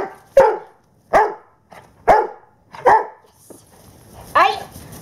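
A protection-training dog barks on command five times in sharp, loud bursts spaced about a second apart, with a softer yip between them and a faint voice in the background.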